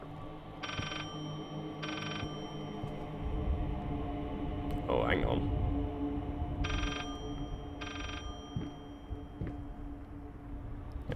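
A doorbell in the horror game Layers of Fear rings in four bright, evenly spaced two-tone chimes across the clip, standing out over a low ambient drone, with a brief spoken remark in the middle.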